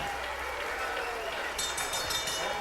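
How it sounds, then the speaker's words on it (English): A boxing arena crowd applauds fighters Abner Mares and Vic Darchinyan after twelve rounds, a dense roar of clapping and cheering under the ring announcer's amplified voice. "they both deserve a round of applause"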